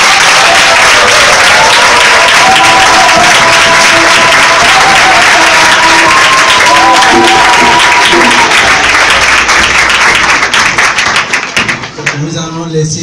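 A church congregation claps and cheers in praise of the Lord, a dense, loud wash of applause that carries on steadily for about eleven seconds, with voices through it, before thinning out at the end.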